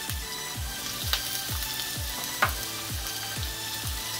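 Chopped potato and carrot frying in hot oil, a steady crackling sizzle with regular rhythmic pulses and a couple of sharper pops.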